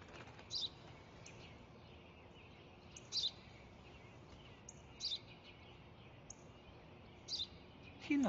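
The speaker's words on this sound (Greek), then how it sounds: "Ένα σπουργίτη." Short bird chirps recur every couple of seconds, faint and somewhat distant, over a steady low background hiss.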